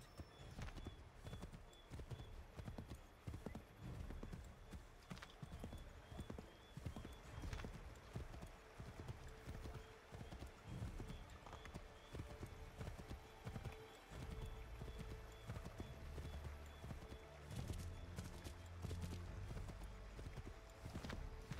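Horse hooves gallop in rapid clip-clop rhythm throughout the Assassin's Creed 3 game scene, with occasional whinnies and other game sounds mixed in at a moderate level.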